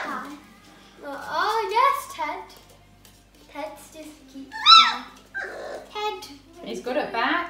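Airedale terrier dogs whimper and yip in short bursts, close by, mixed with a voice and adult talk in a home setting.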